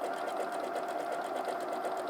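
Steady, continuous whirring and rapid needle chatter of a sewing machine running a stitch on a bag kit, moderately quiet and unbroken, with no talking.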